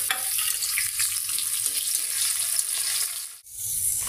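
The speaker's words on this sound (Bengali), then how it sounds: "তেজপাতা, এলাচ, দারচিনি, গোলমরিচ, লবঙ্গ আর পেঁয়াজটা ভেজে নিচ্ছি" Bay leaf, cardamom, cinnamon, black pepper, cloves and onion frying in a pan for a chicken curry, giving a steady close sizzle that runs without a break and dips for a moment near the end.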